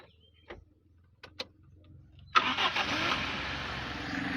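A carbureted Toyota 1RZ engine starting from cold: a few faint clicks, then the starter catches and the engine fires into a steady, close idle that continues to the end.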